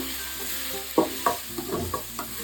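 Vegetables, tomatoes softening with salt in a frying pan, are stirred over a constant sizzle, with a few distinct spatula scrapes and knocks at irregular intervals, close by and with no voices.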